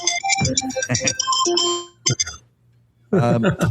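A phone ringtone sounds in bursts of bright, melodic electronic tones during a talk show, stopping briefly before resuming, with people talking over and between the rings.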